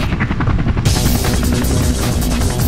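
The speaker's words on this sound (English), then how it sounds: "What, the helicopter?" A helicopter in the Devil May Cry 2 video game gives a loud, steady rotor roar with a rapid chopping pulse. It plays alone and gets brighter and denser partway through.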